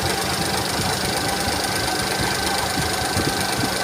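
A Geely Okavango 1.5L's auxiliary radiator fan motor whirs steadily alongside the idling engine, a dense constant mechanical drone with a fine rapid rattle, close and unchanging throughout.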